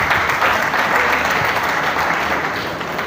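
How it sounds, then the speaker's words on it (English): Congregation at a funeral service in Amannagwu, Arochukwu, clapping together as an offering, a steady dense wash of hand claps that holds at even loudness for the whole stretch, with no voices over it. "give Jesus a clap offering"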